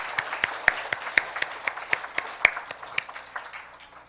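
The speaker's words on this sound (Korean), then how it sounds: "우리 박수해 주시기 바랍니다" A church congregation at a Christmas Sunday worship service claps in a loose, fairly even rhythm, individual hand claps audible and moderately close, tapering off slightly toward the end.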